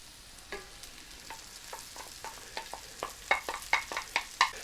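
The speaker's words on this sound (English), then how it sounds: "So what I'm gonna do now is add in the rice." Japanese rice being added to onions frying in a skillet, a soft sizzle under a series of scraping, tapping stirs that grow louder and quicker toward the end.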